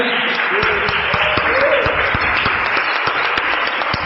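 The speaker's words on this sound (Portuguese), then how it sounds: "Pode bater as palmas, sentarem." A church congregation claps in a dense, continuous burst of applause, steady and fairly loud throughout the short stretch, with a few louder individual claps standing out.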